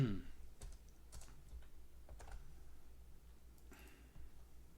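C code is typed on a computer keyboard, a few quiet scattered key clicks in short bursts against a low hum, with faint speech.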